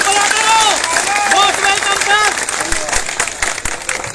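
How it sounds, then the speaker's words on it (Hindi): An audience claps to welcome a group of advocates at a gathering of Delhi street vendors, a crowd's applause running under a voice speaking over it. "लोग जोरदार तालियों से इनका स्वागत करेंगे"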